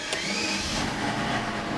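A Mercedes S600 V12 engine idles steadily after a coil pack replacement, a smooth continuous low hum with a faint higher whine, close and fairly quiet, with no misfire stumble.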